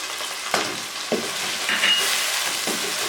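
Chicken with ginger-garlic paste sizzles as it is sautéed in a pan, steady frying hiss broken by a few sharp stirring scrapes, close and moderately loud with no talking.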